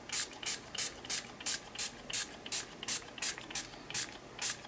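A hand sprayer mists water from a height onto Brusho pigments in short, evenly spaced hissing pumps, about a dozen in quick rhythm, close and fairly soft.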